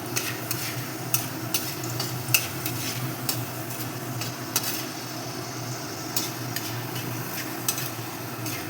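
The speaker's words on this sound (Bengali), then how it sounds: "আমি লাল লাল করে ভেজে নেবো" Pumpkin greens, freshly cut from the plant, sizzle and fry in a pan until reddish, with steady stirring and occasional scrapes and clinks of a utensil against the pan, close and continuous.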